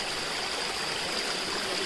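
Stream water flows steadily near Tandulwadi Fort, a constant, even hiss of running water at moderate distance, faint and without voices.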